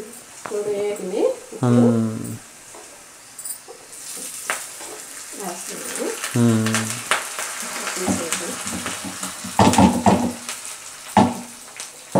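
Spices crackle and sizzle in hot oil at moderate volume, tempering for dal, while a person talks intermittently over the frying.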